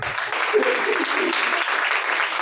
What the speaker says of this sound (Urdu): اس مہمان کے لیے زوردار تالی.